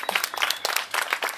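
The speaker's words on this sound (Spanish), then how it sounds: "A ver, Adriana, un aplauso fuerte." Brief burst of applause at a fishing tournament prize ceremony in Reconquista as a winner reaches the podium, a short flurry of close hand claps.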